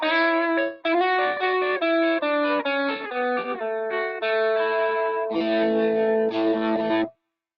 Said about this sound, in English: maybe the final combination would be the Minotaur plus this other EP booster here